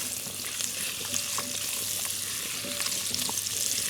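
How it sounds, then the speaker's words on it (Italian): Pumpkin pieces fry in a pan for a pumpkin, potato and mushroom soup, giving a continuous close sizzle and crackle with a few light stirring scrapes. "Buttiamo intanto la zucca, senti che profumo"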